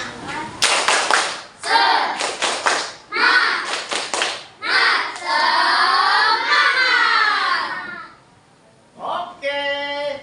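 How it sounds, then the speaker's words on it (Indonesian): A classroom of children claps the rhythmic Indonesian 'tepuk semangat' cheer, bursts of sharp claps alternating with shouted voices in a steady pattern. It is loud and close, and children's chanting runs through it. "Bagaimana kalau kita bikin semangat ya dengan bertepuk semangat?"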